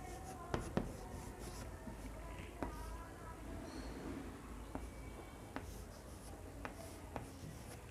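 A pen scratching across paper, with soft continuous strokes and small taps while words are written out, under quiet speech.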